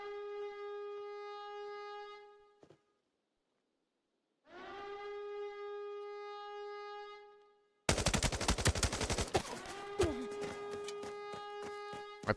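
Rapid bursts of automatic gunfire in the shooter game Escape from Tarkov break in during the last few seconds, loud and dense over a steady, droning alarm-like tone that rises and falls earlier on.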